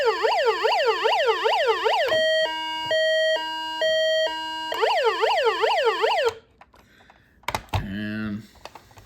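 A toy Hess truck's electronic siren plays loud, close-up, starting with rising-and-falling wails, switching to a steady two-tone beeping pattern, then back to wailing before cutting off, followed by brief handling clatter.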